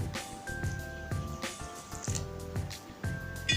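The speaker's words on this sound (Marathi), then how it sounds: "मग नंतर पाणी थोडं थोडं टाका" Water is worked into thick gram flour batter seasoned with baking soda, salt and ajwain, giving soft wet squishes and slaps in an uneven rhythm, close by, over faint steady tones.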